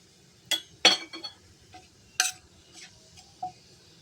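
Several sharp metallic clinks and scrapes of a utensil stirring tempering seeds in hot oil in a pan, spaced irregularly, close by with a faint background hum.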